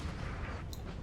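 Artillery fire in Napoleonic Total War III, a dull rumbling boom heard at a distance, with faint crackle trailing off over about a second.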